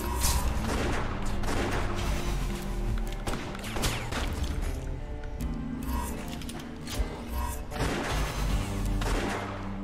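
Gunshots in the video game West of Dead fire in dense, rapid bursts with sharp cracks and booms, mixed with mechanical clicks and a music or effects bed throughout.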